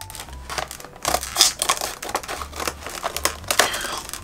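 Hands tearing open and crinkling the plastic packaging of a newly bought glue gun, with continuous close rustling and crackling and a few sharper crinkles throughout.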